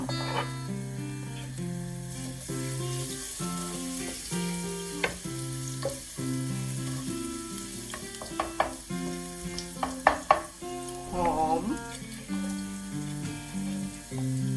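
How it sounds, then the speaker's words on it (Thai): Garlic fries in three tablespoons of olive oil with a soft, even sizzle and occasional stirring, heard beneath prominent background music. "น้ำมันมะกอกค่ะสามช้อนโต๊ะ กระเทียม"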